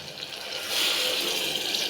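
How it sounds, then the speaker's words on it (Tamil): Water pours from a cup onto basmati rice for a beetroot biryani, two cups of water to one cup of rice, a continuous splashing gush that swells partway through and then stops abruptly. "நான் இன்றைக்கி 1 கப்பு பாஸ்மதி அரிசிக்கு 2 கப்பு தண்ணி ஊற்றுறேன்"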